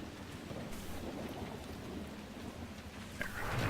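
Thunder from a close lightning strike during a rainstorm in the video game Dragon Age Inquisition: a steady wash of rain with a low, rolling rumble throughout, swelling louder near the end.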